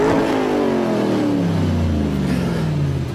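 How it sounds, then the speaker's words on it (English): A car engine revs loudly and steadily up close, its tone sliding gradually downward as it winds down, with no voices over it. "I need a really cool car."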